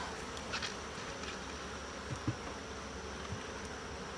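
Honeybees buzz steadily around an open hive during an inspection, a dense, continuous hum of many wings close by, with a few faint knocks and no voices.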